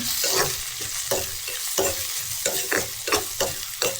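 Fenugreek seeds and curry leaves with onion sautéing in a pan for a Jaffna mussel curry, a steady close sizzle broken by repeated spoon-scraping stirs at a fairly even rhythm, with no talking.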